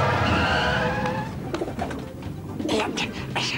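Soft, low pigeon coos repeat close by, followed by a few flutters and scuffs near the end.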